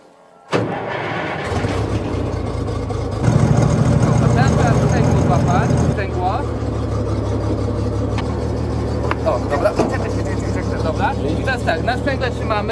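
A Tur SW-4 glider winch engine starts abruptly and settles into a steady, loud running drone during a glider tow, rising in load partway through, with a person talking over it.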